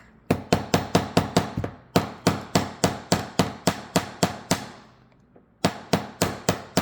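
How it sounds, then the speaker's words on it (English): A hammer strikes the wire legs of a beginner's wire-wrapped bracelet in about twenty crisp, evenly spaced metallic taps, with one short pause before the blows resume. "And I'm hammering the legs."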